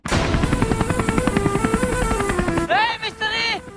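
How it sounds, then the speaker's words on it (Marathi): Steady, rhythmic chopping of helicopter rotor blades beats loudly for about three seconds, then cuts off as a voice speaks. "मिस्त्री हेलिकॉप्टर कुणाच घेऊन आलाय"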